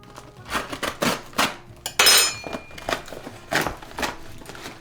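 A knife cuts into a vegan food package: a series of sharp crinkling plastic rips and scraping cuts, close and fairly quiet, with one brighter tearing burst midway.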